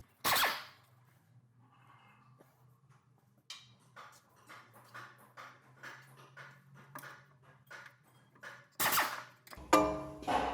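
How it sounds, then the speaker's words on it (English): An impact gun works the brake caliper bolts on a 2015 Toyota 4Runner during a rear brake pad job. Short hammering bursts come near the start and again near the end, with faint clicks and a low hum in between. "I'm going to use my impact gun"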